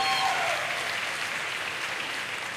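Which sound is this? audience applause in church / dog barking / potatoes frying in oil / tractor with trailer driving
audience applause in church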